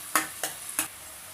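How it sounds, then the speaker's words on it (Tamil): Onions, garlic and curry leaves sautéing in oil for a lamb intestine curry, three quick scraping stir strokes over a faint background sizzle, close and brief. "ஒரு 1 நிமிஷத்துக்கு வதக்குங்க நல்லா."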